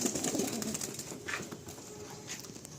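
Lalsira, Lambadi and Fulsira pigeons coo in a full loft, several birds overlapping in a low murmuring chorus, close and fairly loud, with no talk.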